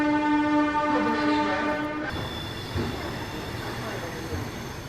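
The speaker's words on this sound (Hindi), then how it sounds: "ये देखिए यहाँ पे ट्रिपल हॉकिंग हुई" The SMVT–Howrah AC Superfast Express sounds a loud, sustained horn blast on its departure from SMVT Bengaluru station, followed by the rumble of the moving train.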